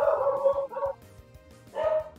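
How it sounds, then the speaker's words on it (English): A dog barks in short bursts, two clustered yaps then a pause and another bark, fairly close and clear over a faint background hum. "there goes the dog."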